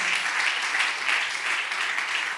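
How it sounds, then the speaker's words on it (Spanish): Church congregation applauding during a sermon, a steady, even wash of many hands clapping together at moderate loudness with no voices over it. "¿qué tal si le das un aplauso a Jesucristo?"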